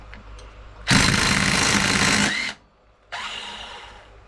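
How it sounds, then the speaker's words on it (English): An air impact gun hammers loose the head bolts on a Monster Moto minibike engine: one long, loud rattling burst of about a second and a half, a brief pause, then a second shorter burst, close up with no talk. "So I'm just going to go ahead and impact these 4 head bolts loose with my impact gun here."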